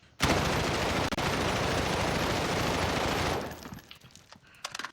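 Rapid automatic gunfire in Call of Duty Warzone: a dense, loud, continuous burst of about three seconds that then drops away to scattered faint clicks and thuds.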